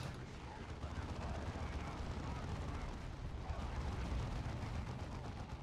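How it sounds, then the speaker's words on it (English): Grenade blast in a Warhammer video game amid continuous heavy gunfire and rumbling booms, loud and dense throughout, with players talking over the battle. "There's a grenade!"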